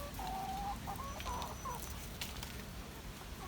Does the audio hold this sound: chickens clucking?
yes